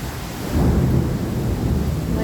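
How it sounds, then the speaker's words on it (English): Heavy rain and hail roar through a thunderstorm as a dense, rumbling wash, with a low swell building about half a second in and holding loud to the end. "It's hailing right now. It's hailing right now."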